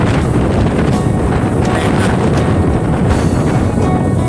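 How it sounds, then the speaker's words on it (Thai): Cold, dry wind blows outdoors during a fishing trip, a steady, loud roar buffeting the microphone without a break and with no voices. "อากาศเริ่มหนาวแล้วครับลม ลมแห้งๆครับ"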